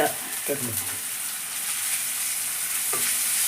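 Onions fry with ginger and garlic for a boti fry, a steady close sizzle and hiss with occasional stirring scrapes.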